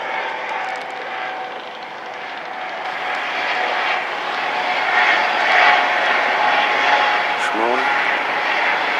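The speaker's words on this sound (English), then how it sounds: "Helicopter." A low aircraft drone hangs steadily over a city street in Chester, Pennsylvania, slowly swelling in loudness, with a helicopter or light plane passing overhead and a brief voice near the end.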